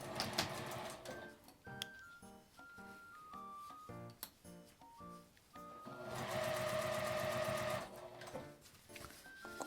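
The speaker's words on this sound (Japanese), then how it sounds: "5ミリの縫い代で縫います。" A sewing machine stitches a fabric pouch made from scraps with a 5 mm seam allowance, running in rapid, rattling bursts of stitching with short pauses between runs.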